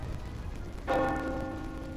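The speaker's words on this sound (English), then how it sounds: "Suddenly the bells chimed again, but this time they sounded unusually long, ringing out a different tune." Video game church bells chime with a single bright struck tone that rings on and sustains, sounding alone over a soft ambient background.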